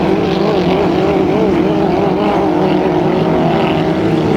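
Hydroplane racing boat engine during a heat race at a hydrofest on a course, a steady loud droning roar with a wavering pitch held throughout, no talk over it.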